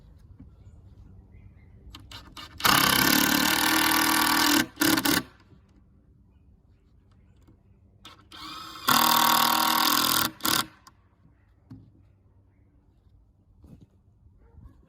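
Two long bursts of a power drill driving screws into wood for a cold frame greenhouse, each about two seconds of loud whirring ending in short tightening pulses, with quiet pauses between.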